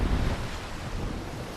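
Steady roar of surf on an Atlantic beach after a storm, a dense continuous wash of breaking waves mixed with wind buffeting the microphone, loud and unbroken.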